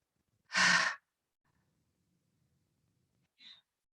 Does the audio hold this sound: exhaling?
yes